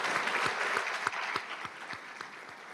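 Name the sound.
audience applause at college ceremony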